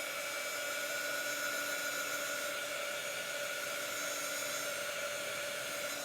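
A heat tool or hair dryer blows steadily to dry black paint on a chalk craft project, a constant whirring hiss with a high motor whine, unbroken throughout and heard alone.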